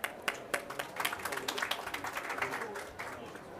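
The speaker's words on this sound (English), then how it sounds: "Please join me and welcome our panelists with an applause" An audience at a COP 29 side event panel applauds as panelists come on stage, with a short burst of scattered hand claps that is fairly close and moderate in volume and soon thins out.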